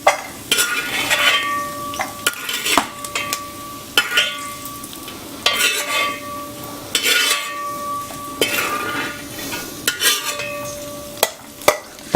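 Coconut pieces fry in hot oil for a Kerala beef dry roast while a metal ladle scoops them out, giving a continuous sizzle broken by repeated sharp clinks and scrapes against the pan.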